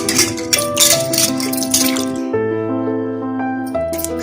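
Ivy gourds are rinsed in water, giving a few splashing, dripping bursts early on, with steady tonal music continuing throughout.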